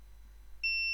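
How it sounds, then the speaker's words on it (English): A multimeter gives a steady electronic continuity beep partway through while probing a pin on an ASUS ZenBook Duo UX481FL motherboard, clean and sustained over a low hum. "the pin which is having a beep sound"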